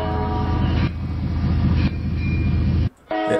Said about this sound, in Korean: 건널목에서 열차가 지나가고 경적이 울리는 소리